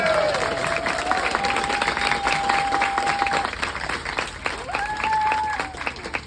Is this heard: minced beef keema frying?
no